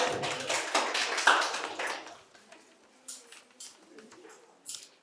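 An audience at a quiz competition at Santiniketan Medical College and Hospital bursts into brief applause that fades quickly, leaving a few scattered claps.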